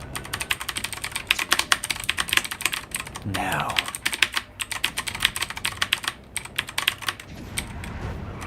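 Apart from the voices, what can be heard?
computer keyboard typing (keyboard ASMR)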